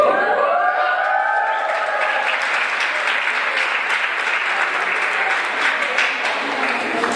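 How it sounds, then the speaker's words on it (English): Loud, dense applause from an audience clapping for a speaker named Fanny at an ethical leadership event, sustained and even for the whole stretch, with a sung or spoken voice over the first couple of seconds. "So you were still clapping for Fanny living for Jesus."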